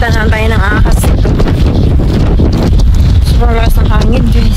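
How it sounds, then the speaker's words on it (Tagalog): Strong wind buffets the microphone with a loud, constant roar while a person talks over it in the Australian countryside. "Sobrang lakas ng hangin guys."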